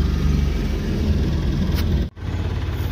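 A Mahindra Supro van with an injector fault idles after starting, a steady close low-pitched engine chug with a brief sharp dip near the end before the running resumes.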